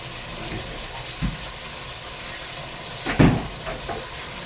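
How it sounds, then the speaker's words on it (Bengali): Hot water is poured into a pot of braised, spiced curry, giving a steady wet hiss and sizzle with a couple of brief splashing surges near the end. "এই যে গরম পানি অ্যাড করে দিছি এটা এখন রান্না হতে থাকবে"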